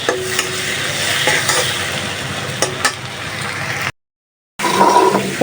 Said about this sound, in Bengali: সাথে একটু লবণ দিচ্ছি বেজে তুলে তারপর রান্নাটা করবো